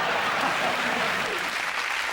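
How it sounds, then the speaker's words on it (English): Studio audience at a TV comedy panel show breaks into loud, sustained applause for a standing ovation, a dense wash of clapping with no gaps. "And the crowd are giving him a standing ovation."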